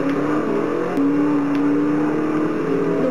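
A car in the Forza Horizon video game accelerating at very high speed on a highway, with a steady, loud engine drone and a rising whine, heard alone without talk.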